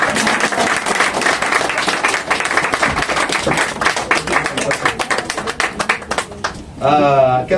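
A church congregation claps and cheers loudly in dense, continuous applause that thins toward the end, when a voice rises over it.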